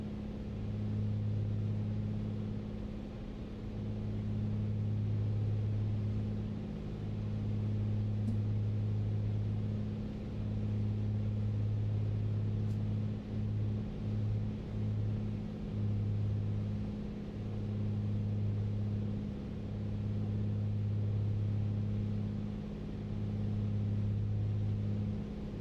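A steady propeller aircraft engine in Microsoft Flight Simulator 2020 drones at a constant low pitch, with a pulsing, throbbing hum that swells and dips in regular cycles throughout, close and alone with no talk.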